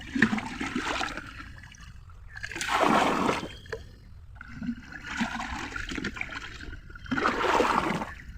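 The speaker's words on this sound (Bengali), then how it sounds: "তো চলো বালতিটা আমি ধুয়ে নেবো" A bucket being rinsed in a village pond gives repeated bursts of splashing and sloshing water, each lasting about a second with quieter trickling between them, close and moderately loud.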